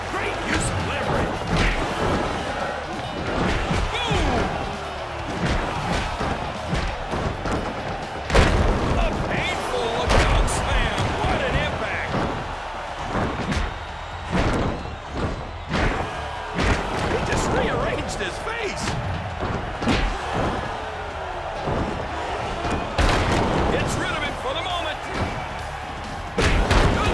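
A pro wrestler is tossed and slammed onto the ring mat amid a loud, continuous arena crowd roar, with heavy thuds standing out and commentators talking throughout.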